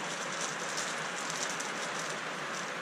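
Steady rain falls outside a workshop, a continuous even hiss of drops on surfaces with no pauses, moderately loud and close.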